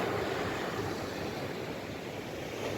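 Black Sea waves wash against the Odesa shore, heard from a lifeguard booth as a continuous, even roar of surf mixed with some wind, with no voices.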